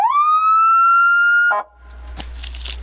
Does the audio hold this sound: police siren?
yes